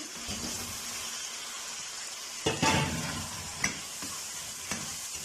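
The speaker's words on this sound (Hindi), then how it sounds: "इनको तकरीबन हम 5 मिनट के लिए भूनेंगे" Potatoes and peas added to softened tomatoes sizzle and fry in a pan for a turnip curry, with a steady low hiss and a few louder clanks of stirring near the middle and end; no voices.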